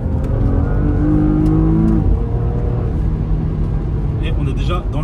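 A long-wheelbase Porsche Panamera accelerates hard, heard from inside the car: the engine note climbs steadily, then drops as the gear shifts before rising again under a constant road and wind rumble, with a voice faintly present.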